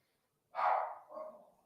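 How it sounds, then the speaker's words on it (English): A dog barks at a delivery person at the door: one loud, close bark followed by a second softer, shorter one, with no talk. "That's my dog. I mean, the delivery guys here."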